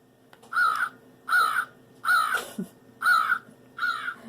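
A toy crow figure lets out five evenly spaced caws, each about half a second apart. The calls are close, clear and mechanical over a faint background hum, with no talk.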